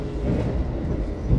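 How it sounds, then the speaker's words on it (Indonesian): Steady low rumble from inside a Lodaya executive-class passenger train running on the rails, a continuous dense roar with no voices. "pada hari ini gue naik kereta api Lodaya di kelas eksekutif"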